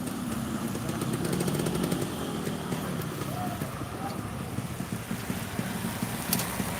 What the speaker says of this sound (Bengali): অনেক ঝড় বৃষ্টি দিয়েছে।